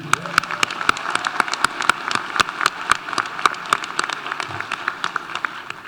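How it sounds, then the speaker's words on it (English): Graduates' families and friends applaud at a Black celebratory commencement ceremony, a crowd's scattered, crisp claps spread across the room, steady and moderately loud for the whole stretch. "Let's applaud again."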